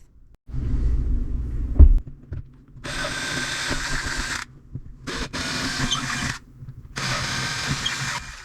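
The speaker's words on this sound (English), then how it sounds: "we're gonna send the 1/4 inch drill bit through those holes we just made" A power drill with a 1/4 inch bit whirs loudly into drywall in several bursts, starting and stopping with short pauses between, after a low rumbling handling noise at the start.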